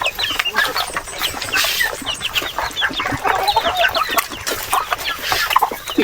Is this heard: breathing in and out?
no